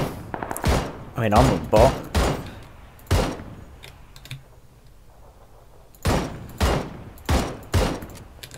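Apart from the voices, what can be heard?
gunshots in the video game PUBG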